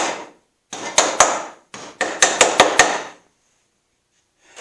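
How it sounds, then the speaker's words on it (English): Hammer strikes packing pieces into a wooden floor, sharp loud knocks in two clusters, a few quick blows then a faster run of four or five, each ringing briefly before short pauses, close up and without talk. "Grab our hammer and just make sure these are packed all the way in."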